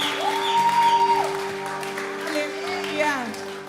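A church congregation claps along during sung worship at CCMI Venezia, a steady patter of applause mixed under sustained music and voices.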